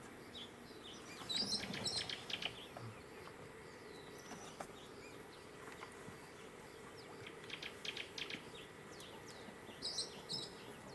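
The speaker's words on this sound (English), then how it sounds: "That high-pitched sound is of a parrot. We have the orange-bellied parrot." Orange-bellied parrot calling at Lake Nakuru National Park, Kenya: faint, thin, high-pitched chirps in short bursts, set among distant insect buzz and soft outdoor ambience.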